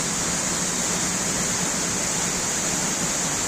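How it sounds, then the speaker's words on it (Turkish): Steady, loud roar of a waterfall at Akçakoca, heard up close as an unbroken broadband rush with a hissy top and no pauses, without any voices. "Gerçekten Muhteşem bir şelale."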